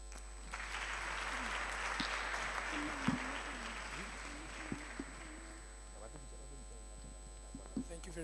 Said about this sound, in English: Can we please give Ms. Masenya a round of applause once again?